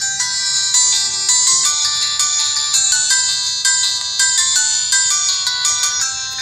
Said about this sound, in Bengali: আমরা একটু রিংটোনের সাউন্ডটা চেক করতে চাচ্ছি।